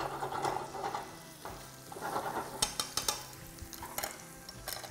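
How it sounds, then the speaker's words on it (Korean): Garlic, onion and firm vegetables stir-fry in a lightly oiled pan for a pad thai, making a close, steady sizzle broken by scraping and clacking stirring strokes, with no voices. "그리고 약간의 마늘 먼저, 그리고 단단한 채소 먼저 좀 볶겠습니다."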